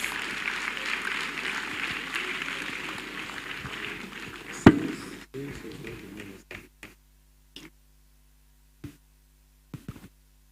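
An audience at a university anniversary ceremony applauds as an honoree is called forward. The steady, full clapping stops abruptly halfway through, leaving only a few scattered late claps and taps in a quiet hall.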